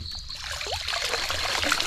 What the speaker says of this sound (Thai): ที่น้ำไหลดี